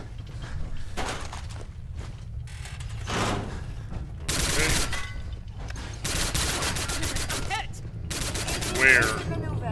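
Gunfire in a modded Fallout 4 survival game, with scattered bursts of shots and mechanical clatter, some cracks sharp and near, others duller, over a steady background of in-game noise.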